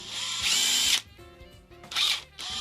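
A battery-powered driver spins a 7mm magnetic socket onto a bolt, two loud whirring bursts close up separated by a short quiet pause, then a third burst starting at the end.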